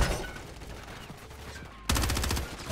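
Video game gunfire, steady rapid bursts of shots under a dense, noisy battle mix, jumping louder into a harsh rattling volley near the end.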